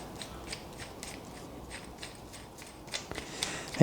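A nut is run onto the new table screw of a Clarkson tool and cutter grinder, giving a steady series of faint metallic clicks and ratcheting ticks close by, which grow a little louder at the end.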